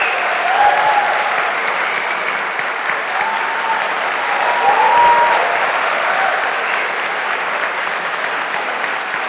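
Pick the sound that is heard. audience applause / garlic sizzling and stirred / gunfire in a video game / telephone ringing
audience applause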